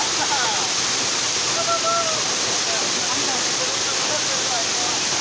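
Waterfall at Ayodhya Hills in Purulia, a steady broadband rush of falling water, loud and unbroken throughout with a faint voice in the background.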